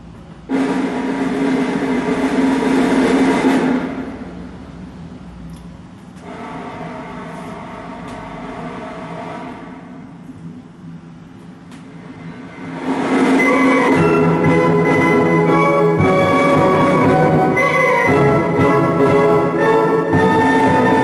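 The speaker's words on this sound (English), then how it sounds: "I know these pieces. La Gazza Ladra, Rossini, The Thieving Magpie." A vinyl record plays Rossini's La Gazza Ladra overture from a Philips Digital Classics pressing, with a slightly noisy start. A loud orchestral passage drops to a quieter stretch, then swells again to a full, sustained level.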